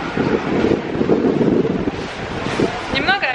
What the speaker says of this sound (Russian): Немного о ветре в метро.